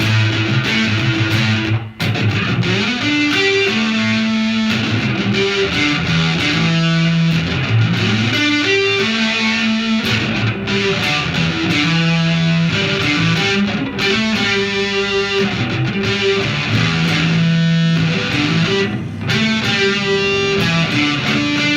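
Electric guitar played through a distortion pedal, a steady wall of overdriven chords and riffs in the style of classic rock songs, loud and continuous for about twenty seconds with no talking.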